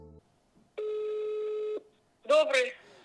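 One long, even telephone ringback tone sounds for about a second, followed by a brief pause and then a voice starting to speak.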